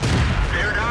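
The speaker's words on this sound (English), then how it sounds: "They've actually ammo racked me" A tank shell strikes and detonates the ammunition rack of an American T14 heavy tank in World of Tanks, a loud booming blast that rumbles and decays over a full second, with a faint rising tone late in the sound.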